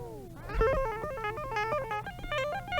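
Electric guitar played with a clean, dry direct tone and no amp simulation: a quick run of plucked single notes in a bouncy, repeating pattern, thin and close, over a faint steady hum.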